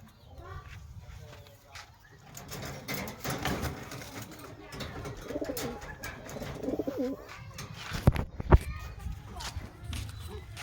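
Pigeons coo softly and repeatedly at close range, with shuffling footsteps, rustling and occasional sharp knocks around them, while a person talks quietly.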